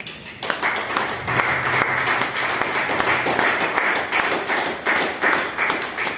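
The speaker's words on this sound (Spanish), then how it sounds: "Denle una ofrenda de palmas al Señor" Church congregation clapping together in praise during a Spanish-language sermon, a dense, loud, steady patter of many hands with a slightly rhythmic pulse, filling the whole stretch without speech.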